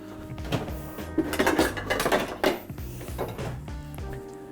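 Kitchen utensils rattle and clatter as a citrus reamer is pulled from among them, a busy run of close metallic and wooden knocks and jangles with a soft background hum.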